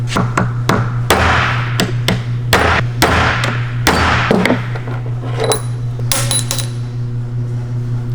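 An aluminum AN fitting is bent by hand while working on a boosted BMW E36, giving a run of sharp metallic knocks and taps, close and uneven, over a steady low hum.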